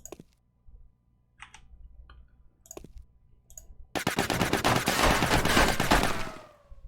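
Gunfire in the tactical game Silent Storm: scattered single clicks and sharp shots give way to a long, loud, close burst of sustained automatic fire that fades out at the end, with no talk.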